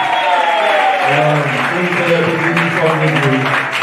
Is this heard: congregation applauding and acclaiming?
yes